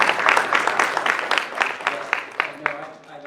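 Audience applause at a 2022 Atlantic Beach candidate forum: a burst of clapping that thins into scattered claps and fades.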